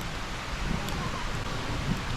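Steady rain coming down hard outdoors on a farm in the Philippines, an even broadband hiss without gaps, with no speech heard.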